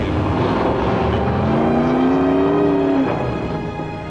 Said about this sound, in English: And under the bonnet here is a light alloy V8 engine